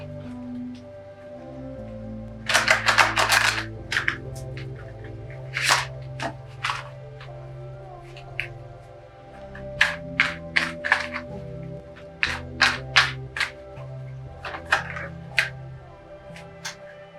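Tarot cards get shuffled in quick bursts of crisp riffling and slapping, clustered in short flurries separated by pauses over a soft low background hum.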